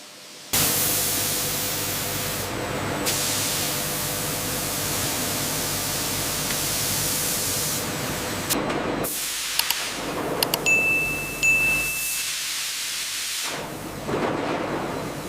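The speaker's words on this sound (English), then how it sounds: "the blocks enter the multi-level steamer, where high-pressure steam locks in the wavy shape." High-pressure steam roars through a multi-level steamer in an instant noodle factory, a loud steady hiss that cuts out abruptly in places, with faint mechanical tones mixed in.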